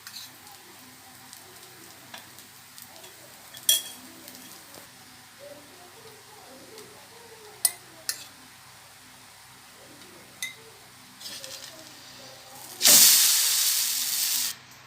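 Adai (kara adai / orappadai) batter cooking on a hot dosa griddle with oil or ghee: a mostly quiet stretch with scattered clicks and faint voice gives way near the end to a sudden loud, steady hissing sizzle.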